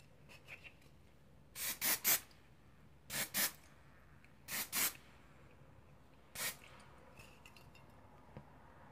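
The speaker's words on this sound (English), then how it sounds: "I'm gonna add a little bit of hairspray." Hairspray hisses from an aerosol can onto short hair in a series of short bursts, mostly in pairs, close and fairly loud against a quiet room, with a final single burst.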